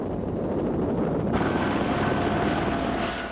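A firefighting helicopter flies over the Blue Mountains bush, its steady rotor and engine roar loud and unbroken, with a slight brightening in tone partway through.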